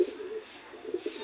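A short-beaked male pigeon coos softly, a close, low, throaty call in a couple of rolling bursts against a quiet background.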